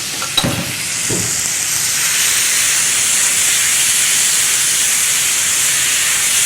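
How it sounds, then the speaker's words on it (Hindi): Chicken for shawarma hits a hot pan on high flame with a couple of quick clatters, then a loud, steady sizzle and hiss builds and holds close up without any voices. "अब हम करेंगे चिकन को फ्राई।"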